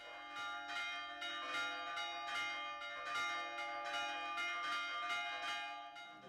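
Church bells in Sardinia pealing in a steady rhythm, overlapping strikes with long ringing tones, faint and somewhat distant, no voices.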